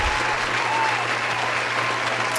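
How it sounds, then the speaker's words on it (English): An audience applauds steadily and continuously throughout, a dense wash of many hands clapping with a low steady hum underneath and no speech. "Can I get a round of applause?"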